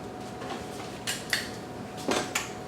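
Spaghetti stirred with olive oil in a metal pot, utensils scraping and clinking against the sides in a few sharp, uneven bursts over a quiet kitchen background.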